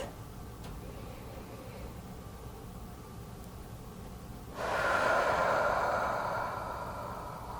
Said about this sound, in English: let's begin with our 3 nice deep breaths